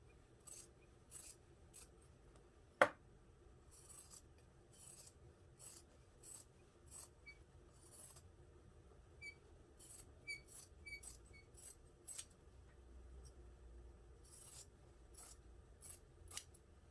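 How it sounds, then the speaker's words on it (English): Scissors snip and rasp through fabric, trimming the corners and seam allowances of a sewn unisex tote bag; a steady run of close, quiet cuts with one sharper clack near the start. "I'm going to cut the corners down so that they poke out nicely."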